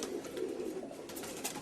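Domestic pigeons cooing inside a pigeon loft in Pančevo, Serbia, a soft continuous murmur of low throaty coos from several birds close by, with no voices.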